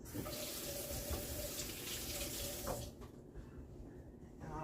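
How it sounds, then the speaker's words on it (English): Kitchen tap water pours steadily into a sink while hands are washed during turkey burger preparation. The flow is close and continuous for nearly three seconds, then cuts off, leaving quiet room tone and faint movement, with no one speaking. "Wash my hands again."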